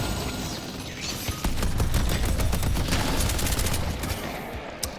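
Turret gunfire from the McGinnis hero in the video game Deadlock, rattling out as a dense, continuous barrage of rapid shots that fills the whole stretch at steady loudness, with no talking.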